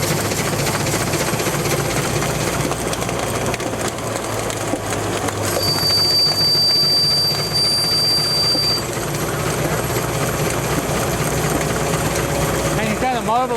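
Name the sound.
Gaar Scott steam engine running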